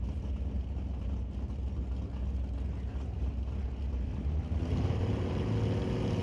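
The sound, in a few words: drag racing cars rolling forward, Datsun 4-cylinder dragster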